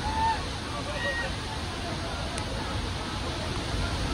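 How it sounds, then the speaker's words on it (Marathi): Devkund waterfall in full July monsoon flow, a constant loud broadband roar of rushing water filling the whole stretch without pause. "पाण्याचा आवाज आपण ऐकू शकतात."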